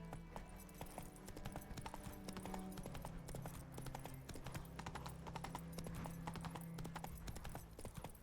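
Steady clip-clop of a horse's hooves galloping in the Witcher video game, a continuous rapid rhythm up close over a low ambient hum, with no voices.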